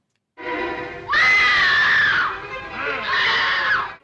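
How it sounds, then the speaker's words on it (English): A woman screams in a 1935 horror film, a shrill rising cry that breaks off briefly and then surges again, loud and sustained over about three seconds with no talk over it. "She has got a great scream."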